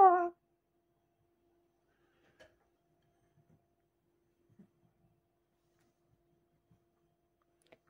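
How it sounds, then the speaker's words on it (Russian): A single short cat meow, close and clear, followed by long near-silence with a few faint, scattered small sounds. "Кошка."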